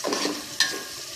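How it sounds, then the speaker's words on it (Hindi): Ginger and garlic being stir-fried in a pan for chicken pulao, giving a soft sizzle with a sharp scrape of the spoon against the pan partway through, close and alone with no talk. "अदरक लहसुन इसमें शामिल कर दिया है और इसको अच्छे तरीके से कर रहे हैं हम फ्राई"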